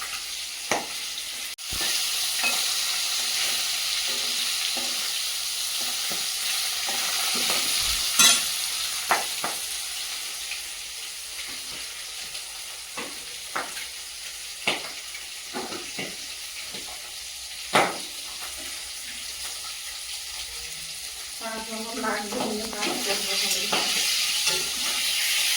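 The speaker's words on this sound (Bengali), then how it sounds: "তোমার মাছ দেখো ভাজা দিকে কত দূর" Fish fries in a pan with an unbroken crackling sizzle throughout. It is punctuated by occasional clicks and utensil knocks, and no one speaks.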